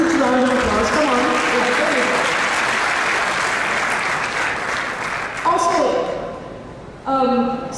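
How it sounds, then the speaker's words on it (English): Audience applause fills a hall at a sports awards gala, loud sustained clapping from a large crowd that tapers toward the end, with a voice speaking over it near the start and close. "You have to give a huge round of applause."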